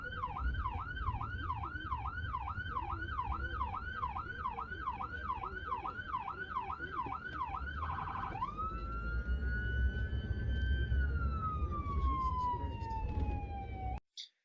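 An ambulance siren recorded from a dash cam wails in rapid, regular up-and-down cycles, then shifts to a long steady tone that slowly falls in pitch. It is loud and close over constant road rumble.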